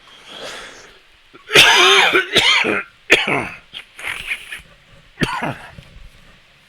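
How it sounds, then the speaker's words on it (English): A run of harsh, raspy coughs and throat-clearing, close and loud, coming in several separate bursts with short pauses between. "I apologize for my coughing."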